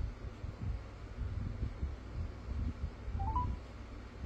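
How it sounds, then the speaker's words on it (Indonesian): An Amazfit Bip 5 smartwatch places a phone call, giving a short rising run of soft electronic tones near the end over a steady low background hum; no one speaks. "ini kita coba buat panggil, untuk kita telepon."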